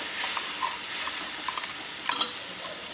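Ground masala paste being stirred into a frying fish gravy for a Karli fish dish: a constant sizzle with repeated light scrapes and clinks of a spoon against the pan, close by.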